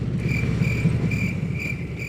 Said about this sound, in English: I'm gonna edit in crickets on all these like blank spaces